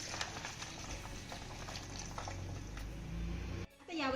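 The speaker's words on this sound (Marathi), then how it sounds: "त्यानंतर 1 ते 2 ग्लास उकळलेलं पाणी यामध्ये घालूया" Boiled water is poured from a glass over soya chunks in a large bowl, giving a quiet, continuous splashing patter that ends abruptly near the close.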